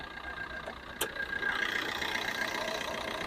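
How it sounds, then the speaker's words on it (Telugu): A Maruti Swift ZDi diesel with about 87,240 km runs at idle, a quiet, steady mid-pitched hum that swells slightly after a brief knock and then holds even, with no voices. "ఇంజన్ నాయిస్ కూడా చాలా సైలెంట్ ఉంది"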